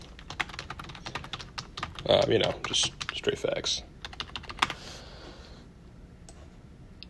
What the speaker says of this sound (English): You can start typing something in here.